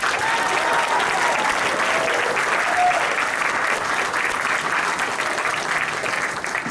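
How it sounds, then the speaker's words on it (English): A convention audience applauds the event staff with a steady, dense round of clapping that fills the room and holds evenly from start to finish, thinning only slightly at the very end. "I wanted to give them first and foremost a round of applause for helping make this happen."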